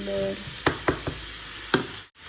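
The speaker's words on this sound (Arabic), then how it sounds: "غادي نحرك الخضره نتاعي مزيان باش تجانس" Vegetables frying in a pan give a steady broadband sizzle, and a spoon stirs them in several distinct scraping knocks before the sizzle cuts out abruptly near the end.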